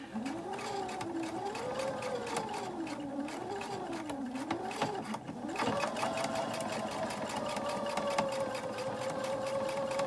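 A sewing machine runs continuously while stitching quilt fabric, a close, steady rapid needle patter with a motor whine that drops briefly in pitch and volume midway before resuming.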